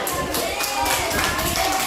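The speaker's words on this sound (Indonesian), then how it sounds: "Tepuk tangan." Schoolchildren in a classroom clap their hands in a short burst of praise for a classmate's answer, a brief, loose patter of near claps with some background voices.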